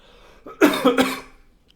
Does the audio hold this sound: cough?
yes